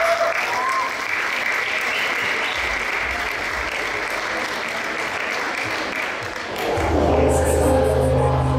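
Audience applause at a town festival concert in Puig-reig, a sustained crowd of clapping that holds steady for several seconds before a musical tone and a voice come in near the end.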